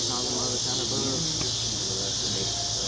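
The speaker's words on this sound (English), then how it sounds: "They call them cicadas. They come out of the ground." Brood XXIII periodical cicadas in Mississippi sing in a loud, steady, unbroken droning chorus, with people talking faintly underneath.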